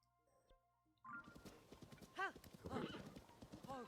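Horse hooves clip-clop in Zelda: Tears of the Kingdom, a steady trotting rhythm starting after a quiet second, mixed with soft whinnies and game sounds, under low talk.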